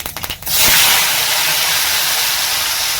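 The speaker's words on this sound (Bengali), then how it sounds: "এবার আমি আলুগুলো ভেজে নিচ্ছি।" Potato pieces hit hot oil in a pan, erupting into a loud, dense, steady hiss after a few scraping knocks, close and continuous with no talk.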